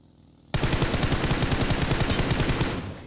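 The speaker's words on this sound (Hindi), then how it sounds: "इसको भी आराम से मार दिया टू शॉट अभिनव" A burst of rapid automatic gunfire in PUBG erupts suddenly after a quiet moment and rattles on loud and steady for about two seconds, then cuts off.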